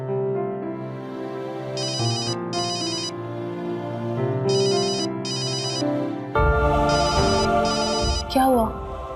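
A telephone rings in a TV crime drama, bursts of electronic trilling in two-ring pairs repeating over a background music score, loud and close, with a brief swell of other sound near the end.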